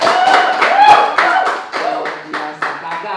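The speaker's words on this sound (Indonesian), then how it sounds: "Tepuk tangan untuk superhero." Audience claps for a costumed superhero at a cosplay gathering on Sudirman's pedestrian street, a loose burst of handclaps that thins into a few separate slaps, with voices mixed underneath.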